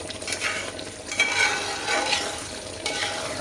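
Onions stirred in a hot pan while cooking a Kerala coconut chicken curry, a steady close sizzle with soft scraping strokes running throughout, no voices.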